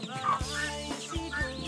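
Farm chickens and ducks kept together in pens, giving soft repeated clucks in short bursts over a steady low hum, fairly close and moderately loud with no talking.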